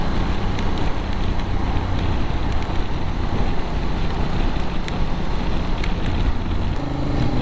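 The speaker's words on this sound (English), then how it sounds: "Here we get the rain again." Rain falls on a motorcycle ride, heard as a dense, constant hiss and patter. It mixes with road and wind noise at a steady loudness throughout.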